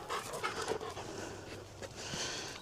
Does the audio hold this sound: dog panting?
yes